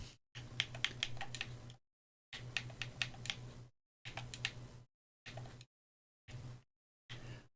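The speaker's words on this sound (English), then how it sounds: "Why am I typing shade in?" Bursts of rapid typing on a computer keyboard, close and crisp, arrive in short runs broken by silent pauses, with no talking.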